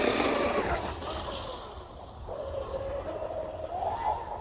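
A Veles 29 RC speed boat races across open water on a windy day, its high motor whine passing fairly near over wind and water noise.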